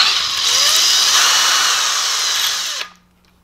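An impact gun or power driver backing a bolt out of a blind fastener during a camper van conversion, a loud close steady whir for nearly three seconds that then stops abruptly.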